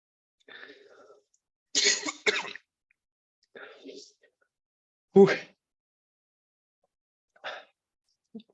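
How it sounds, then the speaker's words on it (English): A single person coughs and clears their throat in several separate bursts, each short and close, with silence between them. "I am trying to sustain my coughing as much as I can."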